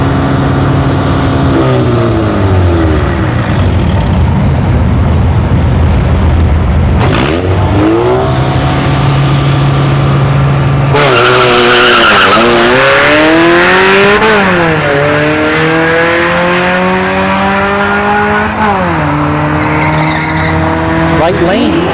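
Drag racing cars, including an Acura Integra, launch down a dragstrip with loud revving engines, rising gear shifts and tire noise, one run following another over a steady crowd and track din.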